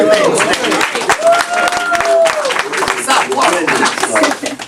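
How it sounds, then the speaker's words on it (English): An audience claps steadily and fairly loudly at a business tour gathering, with someone speaking over the applause and some light laughter mixed in. "Don't applaud me. Applaud my service team."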